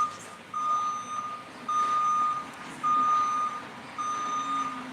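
Garbage truck backing up, with four evenly spaced electronic reversing beeps, each a sustained tone, sounding moderately loud over low engine rumble and street ambience.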